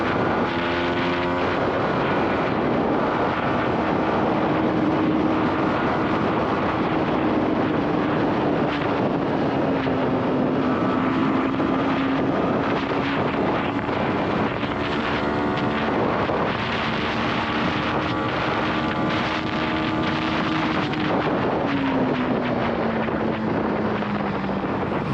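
A Yamaha MT 15 motorcycle engine hums continuously while being ridden, its pitch rising and dipping through several gear changes, heavily overlaid by loud, rushing wind buffeting over the whole ride.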